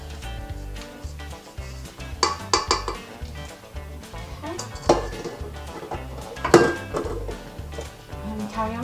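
A spatula creams gluten-free Victoria sponge batter in a mixing bowl, giving close, repeated scraping strokes and light clinks against the bowl over soft background music.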